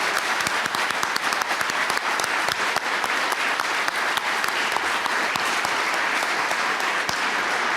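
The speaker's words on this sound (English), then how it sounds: "So I just want to give everyone a round of applause for all of this hard work." A conference audience gives a loud, sustained round of applause, many hands clapping densely and evenly for several seconds, close and full, with no talking over it.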